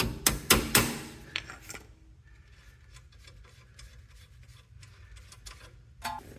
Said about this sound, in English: I can give it a little tap with the hammer